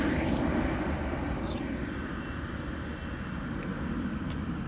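Airliner climbing away into mist at London Luton Airport, a steady broad engine roar that slowly eases as it departs, continuous and fairly loud with no talk.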